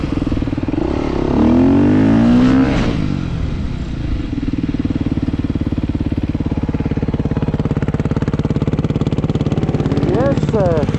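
A KTM SX 350 enduro motorcycle engine revs up and then holds a steady, close drone, with a second rising rev near the end and a coach talking over it.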